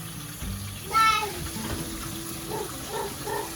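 Running water rinsing out a Nurture Right 360 egg incubator in a kitchen sink, a steady close splashing hiss with a brief louder gush, and a voice talking faintly underneath.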